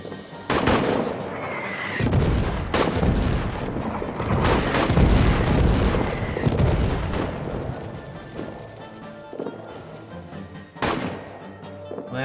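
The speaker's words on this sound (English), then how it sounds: "Artillery shelling added." Artillery shelling in the All Quiet in the Trenches video game on a trench warfare front, with repeated heavy booms and gunfire rumbling loudly and continuously throughout.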